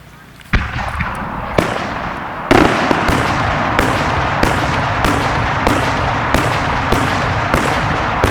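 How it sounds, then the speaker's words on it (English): Italian multi-break firework shells burst at the OzFest 2022 display, a rapid, loud series of booming cracks and rolling reports in quick rhythm, close by and continuous over a steady crowd rumble. "Italian multi-break shells"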